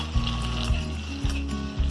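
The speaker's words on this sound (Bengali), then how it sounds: "পেঁয়াজটা জাস্ট হালকা করে ভেজে নেব" Onions frying lightly in hot oil in a pot for masoor dal khichuri, a steady close sizzle broken by a few soft stirring scrapes, no talk.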